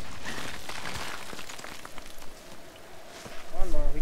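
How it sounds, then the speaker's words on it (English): Rain patters steadily in Tomb Raider 2013, a diffuse wet hiss of falling drops with a voice speaking near the end over it. "It's raining, and we shouldn't be climbing up this when it's all wet."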